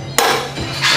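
Two or three sharp metallic hammer strikes ring out on thick steel held in a vise, punching a divot for a drill bit, in quick succession, close and loud, each with a bright ringing tail.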